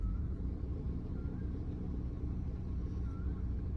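A VW Vento's engine idles steadily after starting, a continuous low rumble holding at an even level throughout without any talk over it.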